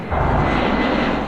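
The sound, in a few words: airplane sound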